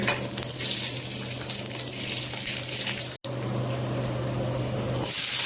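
Mutton fat frying in a pan with whole cumin, a little sugar, dried red chillies, bay leaves and garam masala while cooking chickpea curry with minced mutton. A close, steady hiss runs throughout, broken by one brief cut midway, with no talking.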